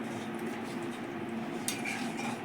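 Pineapple chutney is stirred in a pan, a soft continuous scraping and bubbling close up with one brief metallic clink near the end.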